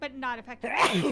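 A single loud, close sneeze bursts out right after a short stretch of speech.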